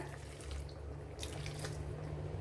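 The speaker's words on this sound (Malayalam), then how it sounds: "കുറച്ച് ചൂടുവെള്ളം ഒഴിച്ചു കൊടുക്കാം" Hot water poured into a drumstick masala curry with onions and moringa pods, a faint, steady trickle and splash heard alone.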